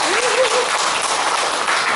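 Loud, dense applause from an audience at a members' gathering and singing contest, a continuous wash of clapping with a brief voice rising over it near the start.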